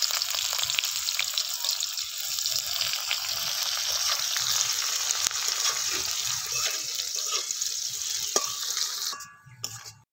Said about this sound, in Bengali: এবার এর মধ্যে কুচো করে নেওয়া পেঁয়াজটা দিয়ে দিচ্ছি।